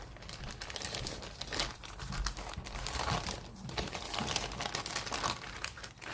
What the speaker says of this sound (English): Now we've got one more bag to open up